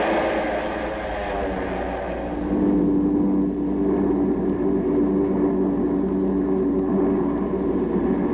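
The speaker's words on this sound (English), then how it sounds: "Japanese planes took off on the strike which marked the start of World War II in the Pacific" Archival recording of Japanese warplanes taking off for the 1941 strike on Pearl Harbor: a continuous propeller-engine drone that swells louder partway through and holds steady, with no talk.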